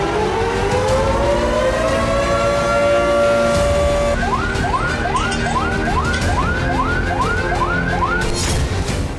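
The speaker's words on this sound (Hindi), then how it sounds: "यूक्रेन के अलग अलग प्रांतों में खतरे का सायरन बजता रहा।" An air raid warning siren sounds in Ukraine during missile and drone attacks. A loud, steady rising tone holds for about four seconds, then gives way to a rapid series of repeated upward wailing sweeps. No voices are heard.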